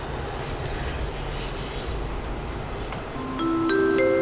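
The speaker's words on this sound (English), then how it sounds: "this Qantas A380 started taxiing" Qantas Airbus A380 taxiing at Sydney Airport, its jet engines giving a loud continuous rumble and roar that swells slightly near the end, with a few brief tonal chimes over the top.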